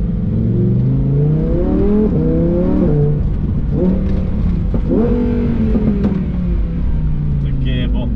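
A supercar engine pulls hard under acceleration, rising harmonic tones climbing and dropping through repeated gear changes, loud and close throughout with a voice talking over the engine.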